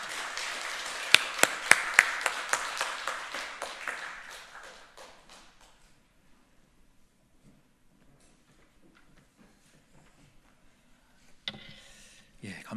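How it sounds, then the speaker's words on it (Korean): A congregation applauding in a church, loud clapping and taps that fade out after about five seconds, followed by near quiet and then a brief burst of sound near the end. "우리 같이 김충환 선교사님을 박수로 맞이하도록 하겠습니다."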